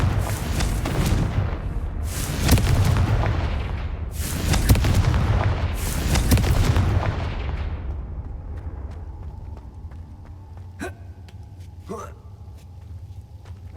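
Confringo blasting curse explosions in Hogwarts Legacy: four loud, close booming blasts in quick succession, each swelling and then rumbling away, followed by a quieter stretch with a couple of sharp clicks and a voice speaking.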